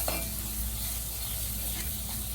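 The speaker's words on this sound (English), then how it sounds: "So we let it chunky a little in the hot oil." Chicken curry ingredients sizzle steadily in hot oil while being stirred, a close, continuous crackle with a light scrape of the spoon near the start, with no voices.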